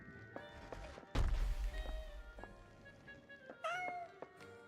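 Cat meowing inside the video game Goblin Cleanup, a few distinct mewing calls spread through the clip over a steady game background, with one sharp thump partway through.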